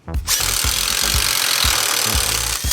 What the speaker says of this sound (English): I got this, this drill bit that goes into my driver.